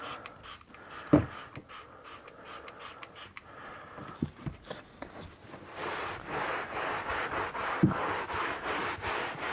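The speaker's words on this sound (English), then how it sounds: "it just feels like you're rubbing the surface" An applicator pad rubs Koch Chemie Colourlock Allround textile sealant into a fabric surface, producing close, soft scrubbing and rubbing strokes with scattered light taps, growing into a steadier rubbing hiss in the second half.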